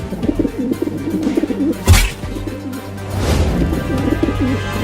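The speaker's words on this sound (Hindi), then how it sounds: "उड़ गया कबूतर" Soft, repeated cartoon pigeon cooing close by, interrupted once by a sharp knock, then the low cooing carries on.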